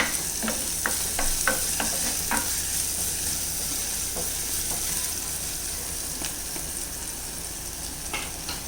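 Onions and salt stirred in a frying pan for a tomato curd curry, with a continuous sizzle and several sharp spoon clicks early on, then softer scraping.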